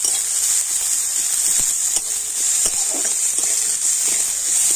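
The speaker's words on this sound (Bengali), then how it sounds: "এবার আমি সমস্ত কিছু একটু হালকা করে ভেজে নেব" Chopped onion, ginger and garlic sizzle in hot oil in a pan, a steady close bright hiss throughout with faint stirring taps, no voices.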